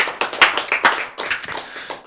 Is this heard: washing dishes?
no